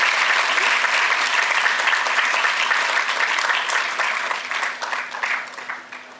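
Steady applause from a seated crowd at a TB-Free India felicitation ceremony at Raj Bhavan, Dehradun, dense and even at first, then growing patchier and tapering off.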